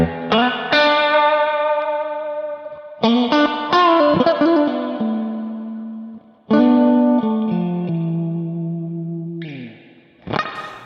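A Strat guitar runs through a Kemper Profiling Amp with the Rev Spring reverb preset, sounding loud and close as it strums chords and picks single notes, each ringing out in a long splashy spring-reverb tail.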